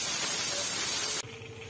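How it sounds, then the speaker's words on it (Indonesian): A pressure cooker's safety valve vents steam in a loud, steady hiss at 25 PSI, then cuts off abruptly as the valve snaps shut, leaving a low background hum. "safety valve ini membuang tekanan yang ada di dalam panci ya, membuang tekanan uap"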